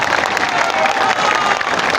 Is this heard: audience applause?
yes